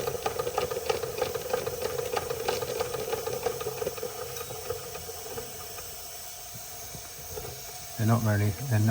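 Rare Marklin 16051 twin cylinder model steam engine running at a slow, even pace, with a rapid rhythmic chuffing and hiss close up, ending with a brief burst of louder voiced sound.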